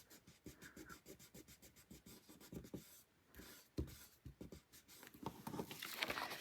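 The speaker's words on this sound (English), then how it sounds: "I'm going to rub it a little bit better." Vellum is rubbed onto a scrapbook layout with quick, faint, close strokes in repeated bursts of soft scratchy rubbing, with a brief pause midway.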